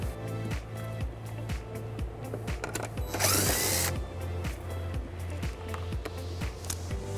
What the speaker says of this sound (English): Now this exposes a screw that we're going to remove using an 8mm socket.